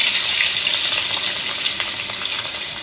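Marinated fish pieces fry in hot oil, making a loud, dense hiss up close. It holds steady for a few seconds and eases slightly toward the end.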